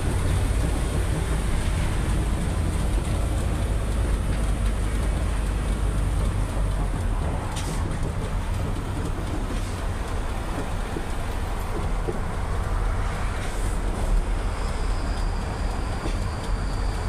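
An Isuzu 10PD1 ten-wheeler truck with a newly rebuilt injection pump drives along, giving a steady, loud, continuous rumble of engine and road noise with no voices.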